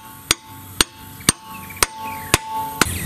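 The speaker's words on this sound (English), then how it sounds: "And so I'm gonna put it there, and then I'm gonna hammer it on." A hammer strikes an 18mm impact socket onto a locking lug nut, six sharp metallic blows about half a second apart, close and ringing over a faint background hum.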